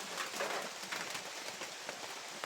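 Rain falling in the mountains at night, a steady patter of drops striking nearby surfaces with scattered louder individual hits, continuous and moderately quiet.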